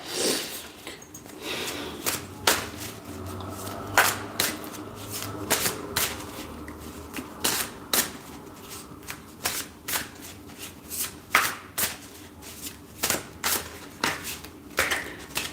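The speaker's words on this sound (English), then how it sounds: "let me just pull some cards" Tarot cards being shuffled by hand for a reading, a long run of close, crisp riffling and slapping bursts in an uneven rhythm, with no talking.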